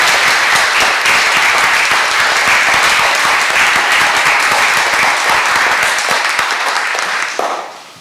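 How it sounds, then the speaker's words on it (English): Dense audience applause fills a city council chamber in Charleston as young men and women are honored, a steady loud wash of many hands that holds for about seven seconds and then quickly dies away. "Can I ask everybody to give these young men and women a round of applause?"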